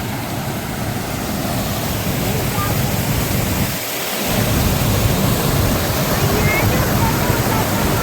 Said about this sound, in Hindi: ये है छोटा सा फॉल।